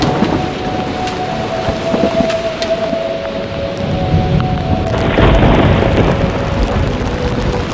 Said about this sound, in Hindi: बारिश फिर से शुरू हो गई है।